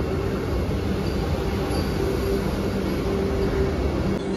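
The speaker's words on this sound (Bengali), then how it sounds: "এই যে বন্দে ভারত ঢুকছে, হাওড়া থেকে আসলো এটা পুরীতে" A Vande Bharat train from Howrah pulls into Puri station, a steady loud rumble and hum running throughout, with no pauses or separate hits.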